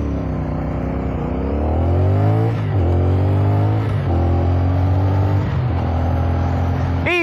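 A CFMOTO 450NK motorcycle engine accelerates through the gears on the road, its rising revs climbing in pitch, then dropping at each shift before climbing again, loud and close with wind noise.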